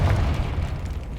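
Confringo fire spell blast from Hogwarts Legacy, a dense low booming burst that rolls on steadily for the whole moment, loud and close with no voices.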